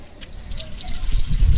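Water poured to rinse something clean splashes and trickles at close range, building in volume over a short stretch.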